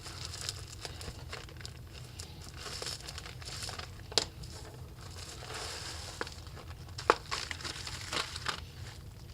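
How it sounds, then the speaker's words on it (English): Packaging from a mailed parcel holding auto LED bulbs being torn and crinkled open, a continuous close rustle of plastic and paper with a few sharper crackling rips scattered throughout. "Get through this packaging here."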